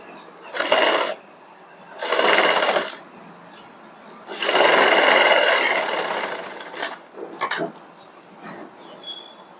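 Sewing machine running a double line of stitches on a blouse: three sustained whirring runs of about a second, a second and two seconds, close and fairly loud, separated by quiet gaps and a few small clicks.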